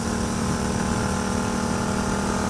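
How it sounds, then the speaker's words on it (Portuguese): A continuous mechanical whine from an overtight drive belt on a Yamaha MT-07 motorcycle climbing a mountain road, a steady high tone over a dense engine hum, loud and close, with no pause. "Parece que a correia tá tinindo aqui."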